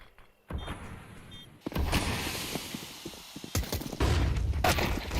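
Flashbang grenades and gunfire in a professional Counter-Strike match: a sharp burst, then loud crackling blasts and shots in clustered bursts over a noisy background, with faint high electronic tones early on.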